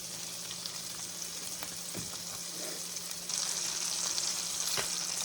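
Sausages fry in a pan with a steady, soft sizzle and crackle, occasional pops and light utensil scrapes, growing a touch louder partway through.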